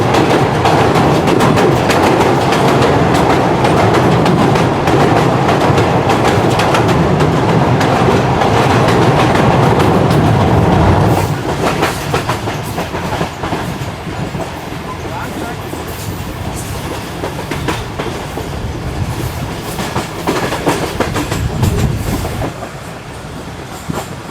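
Karakoram Express in a new rake crossing a river and entering Hyderabad, Pakistan: a loud continuous rumble of wheels on rails with clickety-clack, heavier in the first half, then slightly lighter with rattles and faint squeals.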